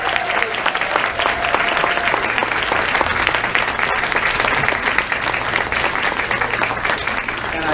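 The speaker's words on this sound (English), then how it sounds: "One more round of applause," Loud, steady audience applause after a school spring musical performance, a dense unbroken roar of clapping from a crowd lasting the whole stretch.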